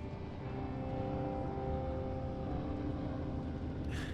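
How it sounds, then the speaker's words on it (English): A helicopter arrives in the video game Firewatch, its engine a steady, droning hum held at an even level throughout, with a brief brighter hiss near the end. "There's the helicopter."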